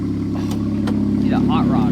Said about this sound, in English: Oh, sounds like a Miata, Red.